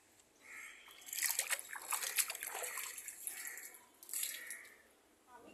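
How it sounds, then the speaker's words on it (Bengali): Temple pond water gives soft sloshing and trickling, faint and close, swelling for a few seconds and then returning briefly near the end. "পুকুরের জল"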